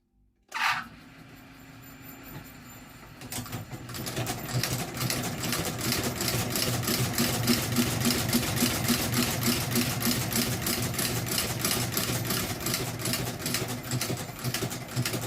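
A sewing machine stitches a new leather sole onto a Loake 771B shoe during a resole, starting after a sharp knock and then running in a loud, rapid, steady mechanical chatter for over ten seconds.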